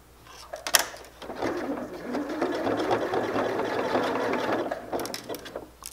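A sewing machine stitches fleece for a hat, a fast steady mechanical whir running for several seconds after a couple of sharp clicks, close and moderately loud.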